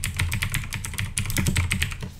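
Fingers type on a computer keyboard in quick, steady bursts of crisp clicking keystrokes, close and clear, with no talking.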